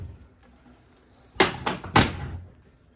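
Pocket doors on a video flypack flight case are shifted, giving three quick, close clattering knocks in a row after a quiet pause, each ending with a short rattling decay.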